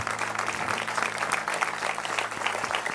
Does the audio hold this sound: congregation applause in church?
yes